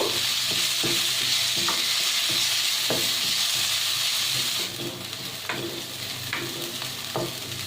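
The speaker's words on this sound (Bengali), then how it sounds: "এই তেলের মধ্যে এই চালটা ভেজে নেব। খুব ভালোভাবে ভেজে নেব।" Rice frying in oil in a pan makes a steady close sizzle, punctuated by sharp scraping stirs at irregular intervals, with no talking.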